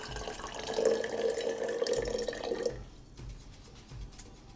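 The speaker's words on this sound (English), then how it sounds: "Fill your jar a third of the way full with water." Water pours steadily into a glass jar for a few seconds, a bright trickling stream that stops abruptly, followed by faint drips and quiet room sounds.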